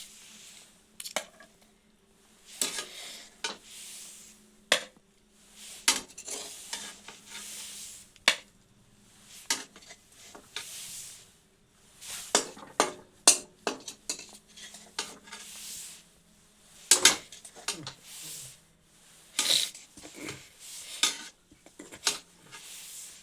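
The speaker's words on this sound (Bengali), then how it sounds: "এটি গ্যাসটা বন্ধ করে অন্য পাত্রে রেখে দিচ্ছি সেট করার জন্য" Kalakand, a soft Bengali milk sweet, scraped from a cooking pot into another vessel to set, with scattered metallic clinks and scraping taps of a utensil against the pots, close and intermittent.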